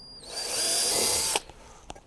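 A power drill with an 11/32 bit bores a hole into a table, a steady loud whine lasting just over a second before cutting off, followed by faint clicks.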